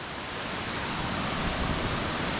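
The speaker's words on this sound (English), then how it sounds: "beautiful waterfall." A waterfall along a hiking trail to Raven Cliff in North Georgia rushes in a steady, loud, broadband roar that holds even and unbroken throughout, with no voices over it.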